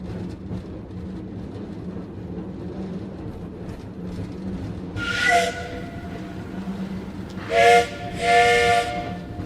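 A steam whistle on the Sky Train, a cartoon train, sounds in three blasts over a steady rumbling hiss of rolling rail noise. One short toot comes first, then two longer, loud shrieks close together.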